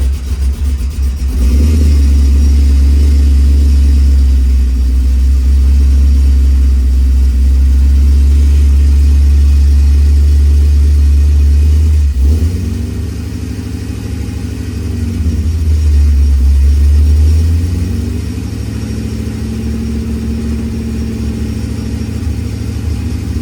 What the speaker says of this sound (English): I think it needs a little idle air control valve adjustment because I think the idle's a little too low